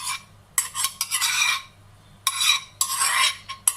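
A spoon or whisk beats three to four spoonfuls of yogurt in a bowl for a liver marinade, giving close, scratchy bursts of rapid stirring separated by brief pauses.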